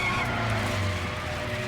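A motorcycle brakes hard and skids in a video game, a sustained tire screech layered over engine drone that holds steady for under two seconds.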